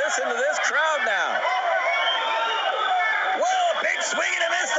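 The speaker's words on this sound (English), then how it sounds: "Listen to this crowd now." Loud crowd at a kickboxing fight between a Ukrainian fighter and his opponent, cheering, whooping and hollering in a dense sustained roar with rising shouts throughout.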